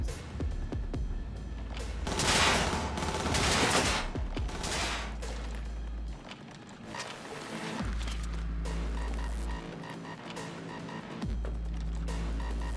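Heavy, sustained gunfire fills a firefight in Cyberpunk 2077, with dense overlapping bursts that swell and ease, then continue as steady rapid shooting after a brief lull.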